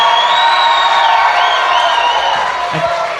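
A live theater audience cheers and whoops together, a loud sustained crowd roar with high shouts that fades slightly toward the end.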